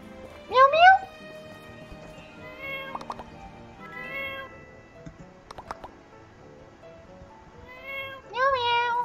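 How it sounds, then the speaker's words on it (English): A cat meows in the My Time at Portia video game, several separate rising calls spread across the stretch, with a voice speaking quietly between them. "Meow meow."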